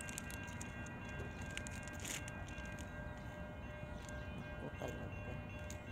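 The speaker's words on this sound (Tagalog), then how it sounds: "Dadaan na yung train dito sa harap ng bahay." Train passing in front of a house on a frosty morning, a steady broad rumble with faint tonal whine throughout, moderately distant, with a brief spoken remark in another language.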